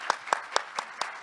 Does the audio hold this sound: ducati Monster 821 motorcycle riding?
no